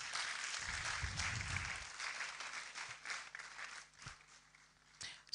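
Applause from a conference audience at an international postgraduate studies event carries on steadily, mixed with a few footsteps, then gradually dwindles to sparse, isolated claps.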